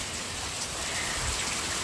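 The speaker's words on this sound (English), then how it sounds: "It is raining so much." Heavy rain pours down outdoors, a steady, dense hiss of drops splashing on surfaces, moderately loud and unbroken throughout the short stretch.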